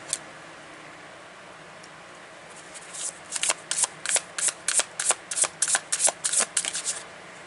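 Tarot cards being shuffled by hand, a quick run of about a dozen crisp riffling flutters in an even rhythm, close up after a quiet start.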